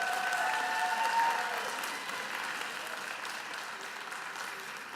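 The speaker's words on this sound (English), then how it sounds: "stand up and applaud them" Steady applause from a large crowd at a nursing college commencement fills the room, loud at first and slowly tapering off slightly over several seconds.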